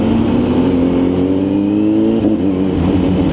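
A Kawasaki ZH2 naked motorcycle with a quick shifter and auto blip accelerates, its exhaust giving a loud, steady rising engine drone heard up close from the rider's position, with a brief shift break near the end and no talking.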